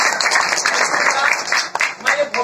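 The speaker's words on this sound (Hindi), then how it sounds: "मैं चाहूंगा इसलिए तालियां हो" An audience gathered at Nawada railway station claps through a short burst of applause, while a voice talks over and alongside it.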